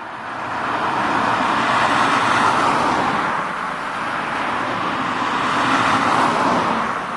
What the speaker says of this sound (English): I pity the people that live in this house with the speeding traffic.